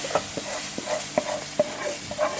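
A pot of Black Sea bulgur soup is stirred with a spoon, making a regular run of soft knocks and scrapes against the pot over a faint bubbling hiss, close by and without speech.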